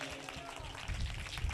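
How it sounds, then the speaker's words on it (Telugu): A congregation at a Christian prayer gathering claps together in a dense, steady burst that grows louder partway through, with a voice faintly mixed in. "చప్పట్లు కొట్టి స్తోత్రం చెప్పు గట్టిగా."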